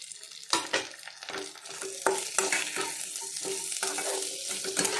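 Meat and potatoes fry in a pan with fried onion, ginger and garlic, sizzling steadily while a utensil scrapes and stirs in repeated sharp strokes.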